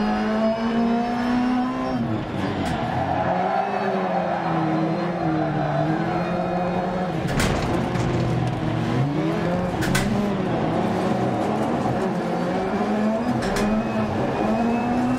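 A racing video game car engine revs and drones through a curve, its pitch rising and falling with the throttle, steady and close throughout, while the car is heavily damaged.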